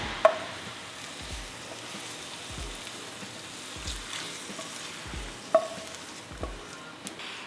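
Scrambled eggs stirred in a pan with a little sesame oil, a soft steady sizzle under repeated scraping strokes of the utensil and a few sharper clinks against the pan.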